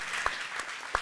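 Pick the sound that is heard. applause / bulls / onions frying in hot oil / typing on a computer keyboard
applause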